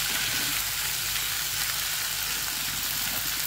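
Tomatoes going into vegetables frying in a pan, giving a loud, dense, continuous sizzle heard up close with no voices.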